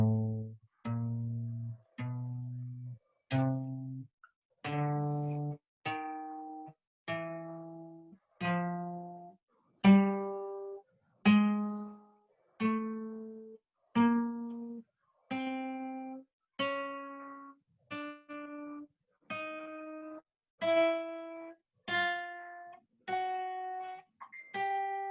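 Guitar working through the spider finger exercise, about twenty-two single plucked notes spaced evenly and climbing steadily in pitch, each ringing briefly before the next, clean and alone.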